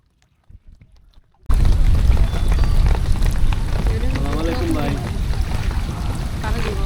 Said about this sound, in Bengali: এই যে এখন হচ্ছে বৃষ্টি গায়ে পড়তেছে।